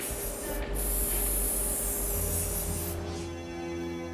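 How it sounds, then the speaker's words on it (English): Spray gun hisses steadily and loudly while applying paint to Lexus LFA car panels in a factory paint booth, a continuous airy rush with a brief break partway through and low machinery hum beneath. "Up to 5 layers of paint are applied."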